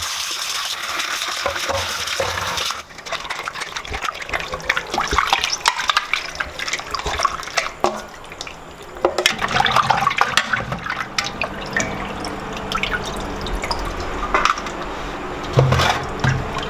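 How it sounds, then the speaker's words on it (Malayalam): Raw chicken rinsed in water for a Kerala-style chicken curry, with continuous splashing and running water, sloshing and pieces being handled in a bowl, fairly loud and close with no talk. "ചിക്കനൊക്കെ ഞാൻ ആദ്യമായിട്ടാണ് വാഷ് ചെയ്യുന്നത് കേട്ടോ."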